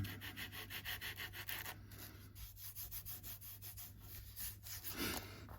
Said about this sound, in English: I'm just now scraping with my 400 grit and using my thumb to guide it rather than the block